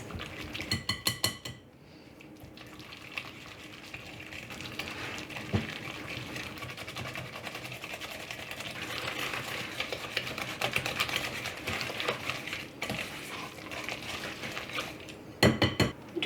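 Honey, butter, egg and vanilla are mixed in a bowl: a utensil clicks and taps quickly and steadily against the bowl, close by, with louder clattering bursts at the start and end.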